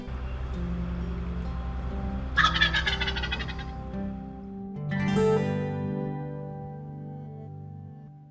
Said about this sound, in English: just have turkeys all around you here lying in the grass